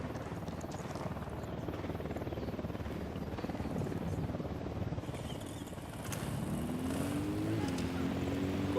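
A helicopter in Ghost Recon Wildlands gives off a loud, continuous rotor and engine drone with a rising whine near the end, and no one speaks.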